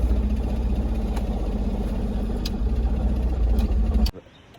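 A Holden VL Commodore engine running and revving, a loud, steady, rumbling drone that holds for about four seconds, then cuts off abruptly into near silence.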